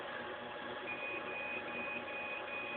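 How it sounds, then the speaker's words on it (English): A thin electronic beep tone from a navigation software position-lost alarm repeats several times at a steady pace, faint over a constant hum of machinery or fans, in a garage. "it's my data alarm saying position lost."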